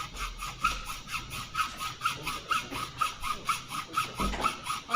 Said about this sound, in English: So now we are cutting the skull cap